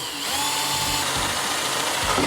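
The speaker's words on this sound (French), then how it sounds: "je perce." An electric drill with a 10 mm wood bit bores a hole in a wooden skateboard deck, a loud continuous motor whine with a rising pitch and a faint grinding underneath, close up and alone.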